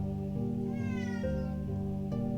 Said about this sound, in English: Minus the cat in the background